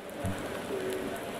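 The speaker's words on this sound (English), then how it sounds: "is it starting to rain more?" Rain falling in the racing game Automobilista 2, a steady broadband hiss of drops on the surface heard alone, with a faint low engine-like tone running underneath.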